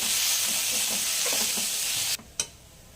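Spiced samosa filling with coriander stirred in a pan over steady hissing sizzle, a few soft scrapes along the way, then the frying noise cuts off abruptly near the end, leaving only a brief clatter.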